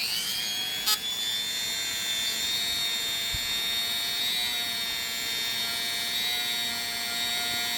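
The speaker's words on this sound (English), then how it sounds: "I'm just gonna go ahead and polish these up" Mosin-Nagant bolt mating surfaces being polished with green polishing compound, a steady close-up whirring whine with a bright high tone that holds evenly throughout, broken by one brief sharp click near the start.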